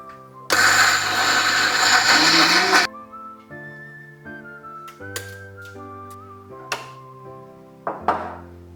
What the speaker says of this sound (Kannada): ಈಗ ಮಿಕ್ಸಿ ಜಾರಿಗೆ ಹಾಕೋಣ.